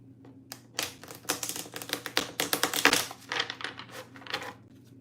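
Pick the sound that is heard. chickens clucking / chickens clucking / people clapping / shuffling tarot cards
shuffling tarot cards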